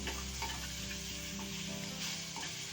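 Bitter gourd and pumpkin with spices and salt sizzle softly in a pan while being stirred, a steady low frying hiss with faint scraping, no voices.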